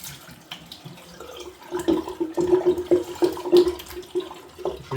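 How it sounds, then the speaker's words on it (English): Water runs and gurgles as a sink drains, with bubbling pulses growing louder midway, close by, no voices. "Release the water in the sink"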